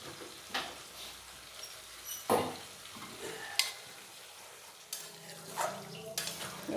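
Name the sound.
stirring chana masala with yogurt in a pan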